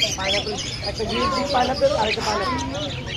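A pair of conure parrots calls at an outdoor bird market, repeated bright chirps and squawks over a busy crowd, with people talking nearby.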